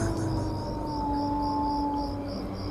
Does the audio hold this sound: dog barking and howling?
yes